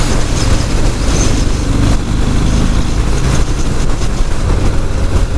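Harley-Davidson Fat Bob 114 motorcycle cruising on the interstate at about 65 mph, a loud, steady engine drone mixed with heavy wind rush from start to finish, with no voices.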